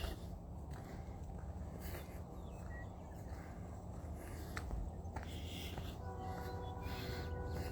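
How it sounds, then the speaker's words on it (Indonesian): A passing freight train rumbles low and steady at a distance, with faint clanks and squeals over a constant outdoor background. "Itu bunyi kereta, cuma bukan kereta penumpang,"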